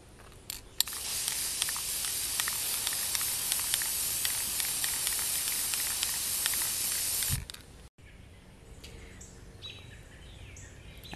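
An aerosol can sprays red paint onto the starter of a 1982 Honda ATC185s, a close steady hiss lasting about seven seconds with brief bursts at the start, then stopping and leaving quiet room noise.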